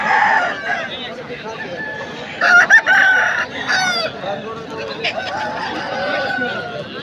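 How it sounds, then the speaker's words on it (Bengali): A white rooster crows loudly nearby amid clucking fowl at the Balrampur poultry market, with people talking in the background. "এইদিকে একটা সুন্দর সাদা রঙের মোরগ দেখলাম"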